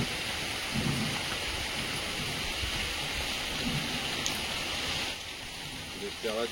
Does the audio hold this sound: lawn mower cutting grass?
no